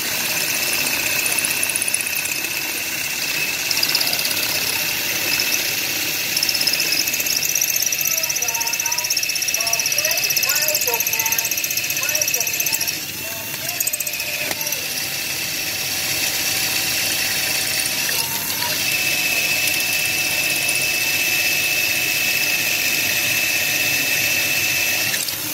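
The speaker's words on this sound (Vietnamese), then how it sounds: "Lý do là cái máy này nó không có chế độ búa cho nên nó khoan vô rất là chậm" Makita cordless drill boring slowly without hammer mode, a sustained high whine with steady motor tone running through the whole stretch, while someone talks over it.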